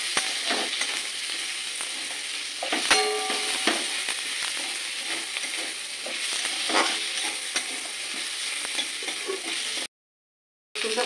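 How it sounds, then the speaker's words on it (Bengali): Ginger paste fries in hot oil in a pan for a Bengali muri ghonto, a steady close sizzle broken by scraping stirs and small pops, with a brief dropout near the end. "আদা দিয়ে একটু নাড়াচাড়া করে নেবো"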